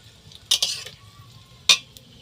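Chillies, panch phoron and ajwain fry in hot oil under a soft sizzle, broken by two bursts of loud spatula scraping against the pan.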